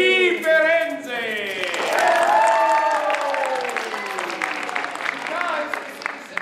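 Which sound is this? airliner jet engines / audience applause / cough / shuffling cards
audience applause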